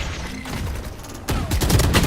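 Missiles fire in a jet combat video game: a steady rushing drone breaks into a sudden loud, dense burst of launch and gunfire-like bursts that carries on to the end.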